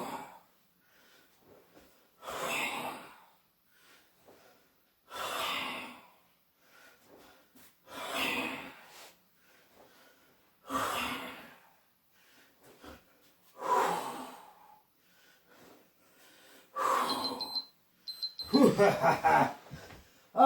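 Heavy rhythmic breathing during sit-ups in a full-body HIIT workout, with about eight loud exhaling bursts spaced roughly two seconds apart and near silence between them.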